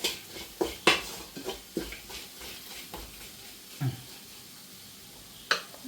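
A spoon stirs black pepper powder into beef cooking in a pan, producing scattered scrapes and knocks against the metal, close and quiet, with faint sizzling between the strokes.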